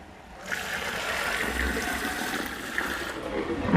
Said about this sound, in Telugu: 7 లీటర్ల 800 ml వాటర్ పోసుకోవాలి.